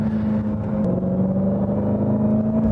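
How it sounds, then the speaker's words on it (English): A 2015 Dodge Challenger SRT Hellcat accelerating hard out of a corner, its engine a loud, close, steady roar with strong low rumble and a sustained throttle note, heard alone. "look at it come off this corner. Just breaks away, rolling on the throttle."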